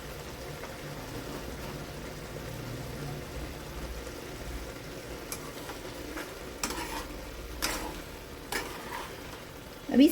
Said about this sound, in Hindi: हम तेज़ आंच पे पकाएंगे ये, खोल के चलाते हुए हल्के हाथों से